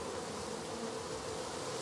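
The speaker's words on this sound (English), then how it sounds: "You see the queen bee here? That's the queen bee." Honeybees drone steadily around a hive with the queen present, a dense, continuous buzzing swarm heard close and unbroken, with no voices.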